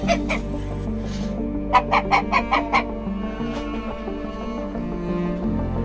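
A hen clucks in the coop in a quick series of sharp, close calls, with softer clucks and a low steady hum around them.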